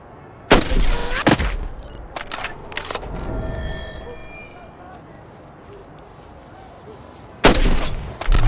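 Sniper rifle shots ring out in the mobile game Hitman Sniper: two sharp cracks close together at the start, then a lull with faint ambience and electronic tones before another loud report near the end.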